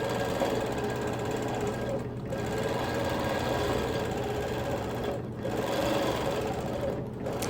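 Quilting machine stitching continuous curves, a steady fast mechanical hum with rapid needle rhythm, running loud and unbroken with a few brief dips.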